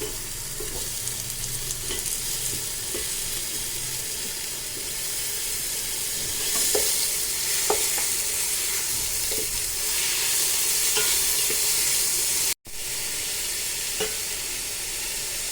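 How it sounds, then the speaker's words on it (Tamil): Onions, tomatoes, green chillies and mint sautéing in a pan for mushroom biryani, a steady close sizzle with occasional stirring scrapes and clinks throughout, no talking. "பச்சை மிளகாய், வெங்காயம், புதினா, தக்காளி, பச்சை மிளகாய் போட்டு வதக்கிட்டு"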